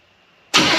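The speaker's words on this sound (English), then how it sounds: "Go ahead and crank it one more time and see what happens." A Chevelle engine with an Edelbrock carburetor, having float bowl trouble, is cranked. A faint whine is followed by a sudden loud burst as it fires, then it keeps running in a brief close roar.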